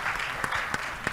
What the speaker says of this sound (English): Can we have a good round of applause for the MC as well?